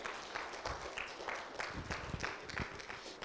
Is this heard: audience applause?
yes